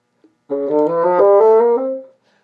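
Solo bassoon playing a short legato practice passage from Weissenborn Study No. 15, Allegro scherzando, a sustained run of connected notes heard alone and close.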